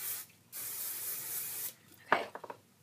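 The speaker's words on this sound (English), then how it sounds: "then just take some more hairspray and really spray that in" Two long hisses of hairspray from an aerosol can are sprayed onto curled hair, close and loud, followed by a few soft rustling touches.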